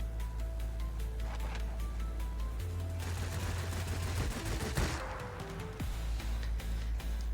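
Rapid bursts of XFL-1 aircraft cannon fire rattle over a humming engine drone, with a dense stretch of repeated shots in the middle, all synthetic-sounding game audio.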